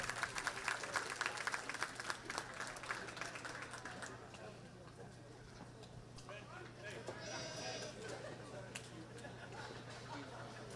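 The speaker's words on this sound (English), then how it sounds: "Let's give this first group a big round of applause as they head back to the ring" Audience at a youth livestock show goat class applauds a group of kids leaving the arena, clapping briskly for a few seconds before fading into quieter crowd murmur and talking.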